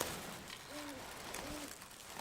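Owl hooting at night near a woodland survival shelter, two soft low hoots spaced about a second apart, faint and distant over a quiet background hiss.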